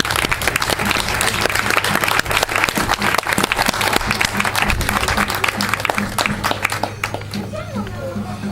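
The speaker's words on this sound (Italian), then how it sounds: "Un applauso a Sekene." Audience applause at an ancient costume parade, sustained crisp clapping from a crowd that tapers off toward the end, with a voice speaking over it.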